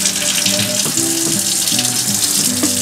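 Water drains steadily from a boat's 200-gallon freshwater tank that was filled with water and bleach, a continuous close-up splashing and gushing rush like a running tap, with no talk.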